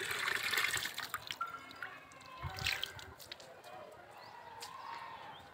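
Water runs and splashes while flower plants are watered on a rooftop in the afternoon, a faint, uneven trickle and pour under a talking voice.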